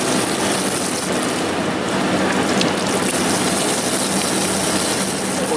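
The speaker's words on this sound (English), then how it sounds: "So next, we rinse it with water" A steady, hissing rush of low-pressure water rinsing a Kawasaki Ninja ZX-6R motorcycle air filter, like a hose on a soft surface, continuing without a break.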